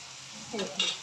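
Wild monsoon Bharangi greens cooking in a pan over a medium flame, a soft steady sizzle with a brief stir and light utensil scrape near the end.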